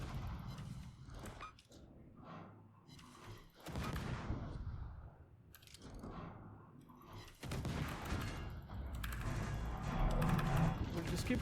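Warship guns in World of Warships fire armor-piercing shells in heavy bursts with thuds and booms, separated by quieter gaps, while a player talks over the battle.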